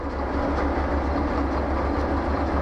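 Train in the Derail Valley simulator beginning to roll, a steady low rumble with a rhythmic wheel clatter, loud and continuous with no voices.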